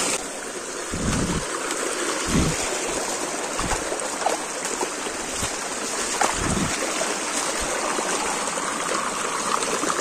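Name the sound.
fast water flowing down a waterfall stream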